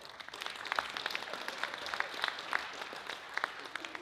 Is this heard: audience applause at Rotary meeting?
yes